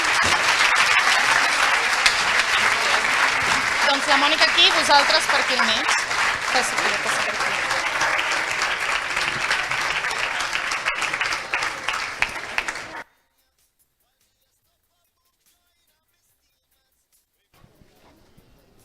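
An indoor audience at a clown theatre festival performance bursts into sustained applause for about thirteen seconds, dense clapping mixed with crowd noise and a voice speaking over the start, then it cuts to silence.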